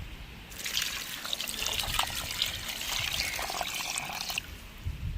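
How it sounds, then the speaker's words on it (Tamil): Water is poured in a steady splashing stream for several seconds, close up, onto fish with turmeric powder, then stops. "தண்ணி ஊற்றிக்கிறோம்"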